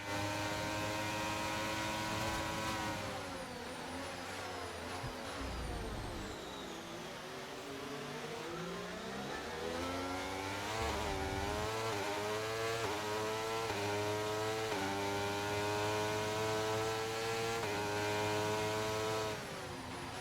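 F1 car engine in the video game F1 23 screams at high revs while using overtake, rising and falling through rapid gear shifts, loud and continuous for about twenty seconds, with no talk.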